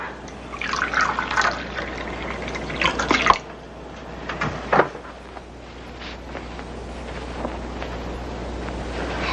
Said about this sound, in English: Connor, would you pour a glass of water?